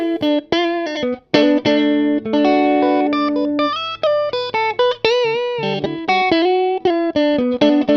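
Distorted electric guitar through a Vox AC30 amp in a recording studio plays a melodic lead with sustained bends and chords, loud and close, with a touch of reverb and no talking.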